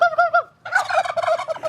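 Tom turkeys gobbling up close, a loud short rattling gobble, a brief pause, then a longer overlapping gobble from the flock.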